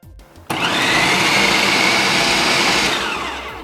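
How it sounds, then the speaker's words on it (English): A food processor grinds leftover chicken, starting abruptly and running in a loud continuous high whirring drone that eases slightly near the end. "I don't have one of those attachments as yet, so I'm using my food processor."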